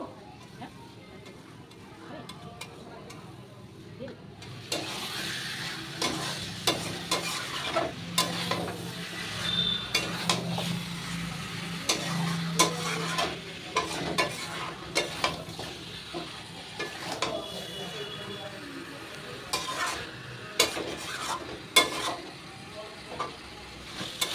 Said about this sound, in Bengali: তো চিকেনটাকে দিয়েও আমি সুন্দর করে কষিয়ে নেব।